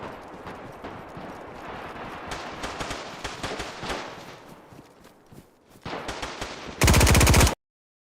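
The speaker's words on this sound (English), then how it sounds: "I was shooting the sandbag" Gunfire in DayZ, dense rapid shots with footstep-like clatter, ending in a loud sustained automatic burst that cuts off abruptly.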